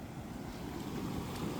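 A river swollen with floodwater after heavy rain, surging and churning in a continuous broad rushing roar, close and steady with wind buffeting the microphone.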